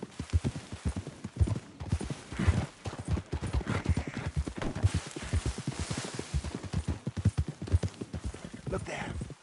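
Horse hooves clip-clop in a steady rhythmic gait in Red Dead Redemption 2, close and prominent throughout, with a brief whinny-like sound and ambient game noise around them.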